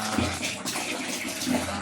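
Clothes swished and stirred by hand in a basin of rinse water mixed with Downy fabric softener, giving a steady close-up sloshing and splashing with no pauses.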